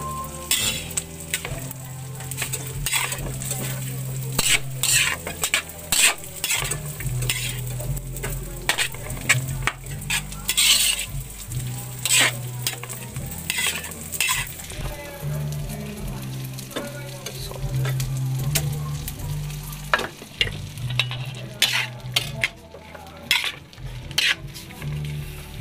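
Tofu sisig sizzling steadily in a pan while being stirred, with frequent sharp utensil scrapes and clinks against the metal throughout, loud and close.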